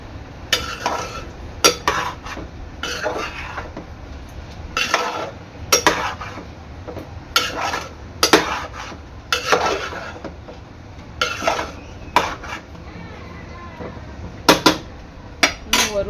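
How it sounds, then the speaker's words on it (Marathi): Vegetable dish being stirred in a pot after tamarind pulp is added, with repeated scraping clanks of a spoon against the metal pot in irregular bursts, close and moderately loud, no talking. "आता ह्यामध्ये मी टाकणार आहे आपल्या चिंचेचा कोळ मिक्स करून घ्यायचं आहे"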